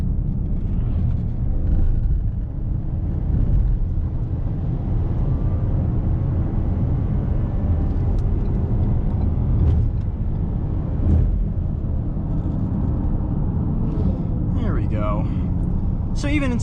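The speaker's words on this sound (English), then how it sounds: "I'm gonna put the car in sport mode and pass these egg timers" A 2022 Ford Edge Titanium EcoBoost SUV accelerates in sport mode, a steady in-cabin engine and road drone that rises slightly, with someone talking over it throughout.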